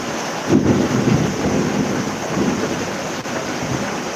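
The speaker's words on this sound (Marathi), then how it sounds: "हे बघा पाऊस वाटत पाऊस खतरनाक पाऊस आहे खतरनाक विजा चमकतात आहेत" A heavy rainstorm in Titwala roars steadily with gusting wind buffeting the microphone and a low rumble of thunder underneath, no voices heard.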